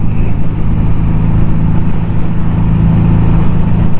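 A 1982 Suzuki GS750T motorcycle fitted with an aftermarket pipe rumbles along while being ridden, its engine a loud, steady low drone with a constant throb and no voices.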